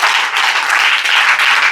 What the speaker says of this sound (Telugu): గట్టిగా చప్పట్లు అంటాడు ప్రభు.